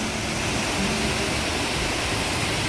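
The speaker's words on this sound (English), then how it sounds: "That water is moving through a channel under these rocks." Water rushes steadily through a narrow channel beneath rocks near a waterfall in Hagerman, Idaho, a loud, dense and unbroken roar close by with no voices.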